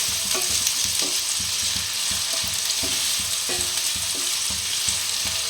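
Chopped aromatics frying for the tadka of an egg dal, a loud continuous sizzle and hiss in oil with rhythmic stirring knocks against the pan, no voices.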